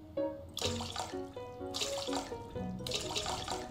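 In the Bakery Simulator video game, water pours into a dough mix in three short bursts of splashing, each starting abruptly, over faint background music.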